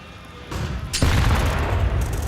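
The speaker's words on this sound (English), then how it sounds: "Nice nade, 50 damage nade." A grenade goes off in a competitive shooter game: a sharp, heavy blast about a second in, followed by rumbling debris and noise that carries on to the end.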